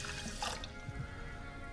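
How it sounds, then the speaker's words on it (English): Water poured into a pot over medium-high heat for sushi rice, a quiet splashing stream with faint trickling and dripping, heard alone without talk. "Add all my water."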